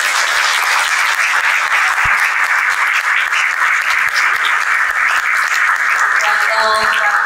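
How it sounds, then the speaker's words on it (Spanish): An audience at a book presentation claps steadily, a loud, even roar of applause that carries unbroken through the whole stretch, with faint crowd murmur beneath. "Un aplauso, por favor."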